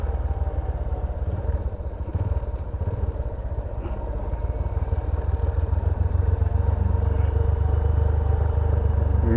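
A motorcycle engine runs loud and close at low speed near a hillside reservoir, a steady throbbing rumble with slight rises in revs, held continuously throughout.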